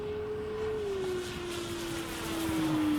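A Top Flite P-47D Thunderbolt Gold Edition radio-controlled model plane cruises overhead on low throttle, its engine a steady, slightly falling drone that swells a little louder toward the end of a few seconds.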